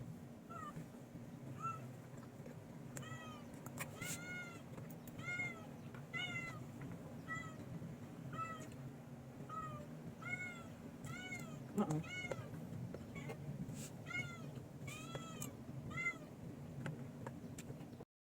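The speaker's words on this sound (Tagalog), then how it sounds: "may naririnig po kayo ditong nagmimiyaw" A cat meows repeatedly while waiting for food, steady short calls in a regular series, moderately near, over a constant low background hum in a quiet indoor setting.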